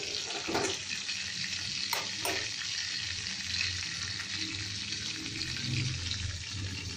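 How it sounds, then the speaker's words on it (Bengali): Magur fish frying in hot oil on full flame, a steady dense sizzle with a few sharp spatters and pops near the start, close and continuous with no talk. "মাছটা ছেড়ে দিয়েছি, ভাজা হচ্ছে, ফুল ফ্লেমে করছি"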